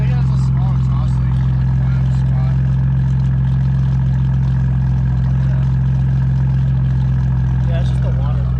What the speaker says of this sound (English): I think it has a small exhaust leak.